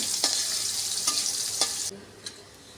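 Onions frying in oil for beresta hiss loudly as a spatula scrapes the pan in a few distinct strokes, then the sizzle suddenly drops to a quieter simmer.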